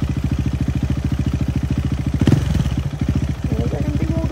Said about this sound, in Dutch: Dat is echt een dik motortje, hoor.